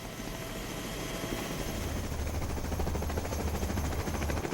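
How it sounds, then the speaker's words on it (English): A convoy of helicopters, led by Marine One, flies toward lower Manhattan, giving a steady, loud rotor thump and broad engine roar that holds evenly throughout with no voices. "The convoy of helicopters reaches lower Manhattan in about 15 minutes."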